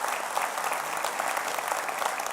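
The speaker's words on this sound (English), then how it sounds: "I hope y'all are clapping for Jesus because it ain't me." Audience applause after a speaker's talk at a church sermon gathering, a dense steady wash of many hands clapping with no break, fairly near and moderately loud.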